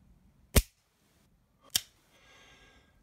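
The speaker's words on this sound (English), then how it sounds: "I know you're not supposed to dry fire these," Dry firing a nickel-finish Smith & Wesson Model 586 .357 Magnum revolver, two sharp metallic hammer clicks about a second apart, close and crisp, followed by faint mechanical rustle.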